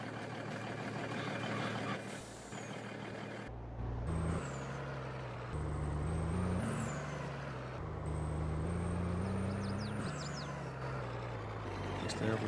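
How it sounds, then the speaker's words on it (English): Truck in Farming Simulator 22 on a farm field: a steady engine drone that shifts pitch as it moves off, with hissing air-brake releases and short high tones, and a voice talking over it. "Right, we're going to move the truck out of the way."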